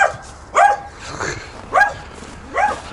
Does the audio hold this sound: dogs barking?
yes